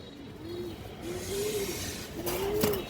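A big female pigeon coos in a repeated low throaty rhythm, three or four drawn-out coos close by over a light background hiss.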